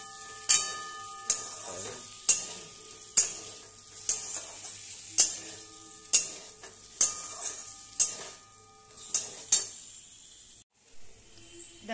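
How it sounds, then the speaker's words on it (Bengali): Spatula strikes and scrapes repeat about once a second as potatoes are tossed in a frying pan over a low sizzle. The clattering stops near the end, leaving a brief quieter stretch. "আলুগুলোকে একটুখানি ভেজে নিলাম।"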